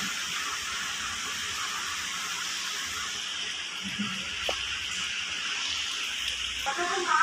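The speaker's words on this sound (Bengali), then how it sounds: "এখানে জল ভরা হচ্ছে।" Water running steadily from a tap into a container at home, a continuous close hiss that stays even throughout with no clear speech.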